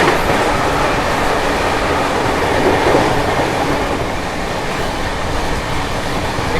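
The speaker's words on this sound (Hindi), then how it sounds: "Skipping Khurja junction, overtaking Hazrat Nizamuddin Patna special." Bihar Sampark Kranti Express running at speed past another train, a loud, steady roar of wheels and rushing wind with continuous rail rumble and clatter throughout, close and with no voices.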